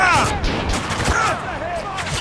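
Rapid gunfire from the shooter game Spec Ops The Line, loud and close, with shots cracking in quick bursts under shouted voices.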